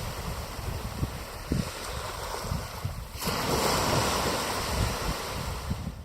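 Surf washes onto a beach on a southern Ireland coast, a continuous rushing hiss that grows fuller midway, with wind buffeting the microphone throughout and no voices.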